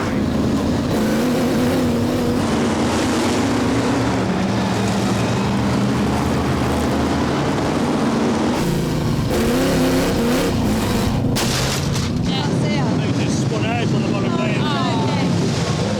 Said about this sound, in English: lots and lots of raw power as the Formula One stock cars circulate the Birmingham Oval at a tremendous rate